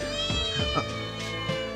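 A cat meows repeatedly, several drawn-out tonal cries running back to back, loud and close with nothing else over them.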